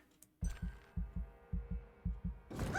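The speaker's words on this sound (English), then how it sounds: "The heartbeat." Heartbeat sound effect from the video game Vampyr, a steady low double thump repeating about five times, loud and close with a faint hum behind it and no talk.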